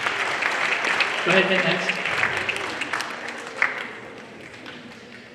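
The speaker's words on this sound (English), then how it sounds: "Everybody give each other a round of applause." An audience claps in a room, a dense, fairly loud round of applause that gradually thins and fades out, while a speaker talks over it.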